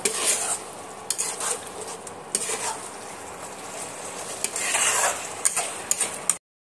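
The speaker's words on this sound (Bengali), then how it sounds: "এবার আমি সমস্ত উপকরণ একবার আমি এইভাবে নেড়ে দেব, যাতে মশলাগুলো মাংসের মধ্যে ঢুকে যায়" Spiced chicken being tossed in a pan for chicken kasa: a spoon scrapes and clinks against the metal with rhythmic stirring strokes over a low sizzle, close up, ending abruptly.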